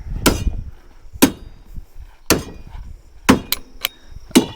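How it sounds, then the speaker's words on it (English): A hammer strikes wood and metal during construction of a chicken tractor roof, five sharp, evenly spaced blows close by with short ringing tails and faint background noise. "Just grab a hammer."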